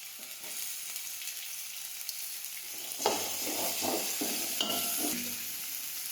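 Chopped green chillies dropped into hot oil with garlic while cooking kachori filling, giving a steady sizzle that jumps louder midway, with several scraping stirs of a spoon against the pan.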